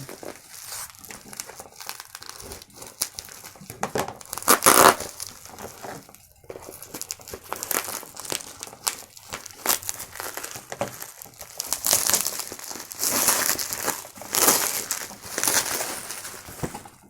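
A Pigeon brand baby feeding bottle package wrapped in bubble wrap and taped inside a box is unwrapped, making continuous close crinkling and rustling with occasional louder tearing bursts.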